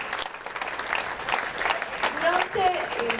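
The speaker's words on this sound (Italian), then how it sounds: "Facciamo un bel applauso" Applause from an audience at the Premio Caccuri award event, steady clapping that carries on for a few seconds, with a voice talking over it near the end.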